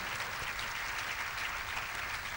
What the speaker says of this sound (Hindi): जोरदार तालियों से आज दिखाइए आपकी खुशी